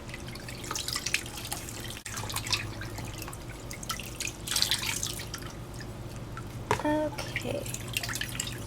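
Water trickles and drips faintly while soap is rinsed off a silicone baby doll in a tub, with soft splashes and a brief spoken word.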